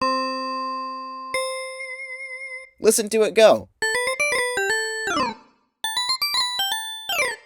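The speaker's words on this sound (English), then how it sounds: "the main lead instrument in this song, I've decided to dub this the Sonic Bell" The Sonic Bell lead instrument from the 1991 Sonic the Hedgehog game music, bright bell-like synth notes from the YM2612 chip ringing in a clear melodic phrase with short pauses, preceded by a held tone and a brief spoken line.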